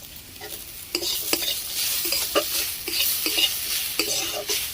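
Chopped onion and green chilli frying in a pan with boiled potato and carrot, a soft continuous sizzle broken by repeated scraping stirs of a spatula, close and alone.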